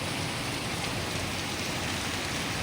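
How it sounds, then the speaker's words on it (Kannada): Heavy rain pours outside in Udupi, a steady, dense hiss of falling water with no pauses and no voices. "ಹೊರಗಡೆ ಮಳೆ ಮಾತ್ರ ಹೆವಿ ಸುರಿತಾ ಇದೆ"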